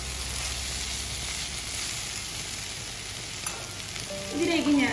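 Pasta pulao masala sizzles steadily in a pan while being stirred, a continuous frying hiss with soft scraping and a slightly louder burst of stirring near the end, no voices.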